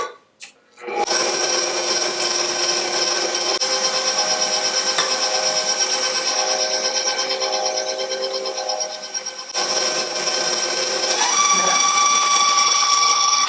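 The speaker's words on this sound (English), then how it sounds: "we're just going to blend that together" A blender whirs steadily as it mixes cheesecake batter with fresh-squeezed lemon juice, a loud continuous motor whine that briefly dips and then rises again near the end, with no talk.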